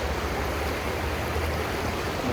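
A stream of water flows steadily along a trail called Halfway on a sunny day, a constant close rushing wash with no voices over it.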